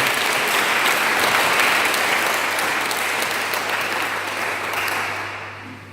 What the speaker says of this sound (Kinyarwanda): ariko wowe waje gusenga agira ngo wikomere amashyi mu izina rya Yesu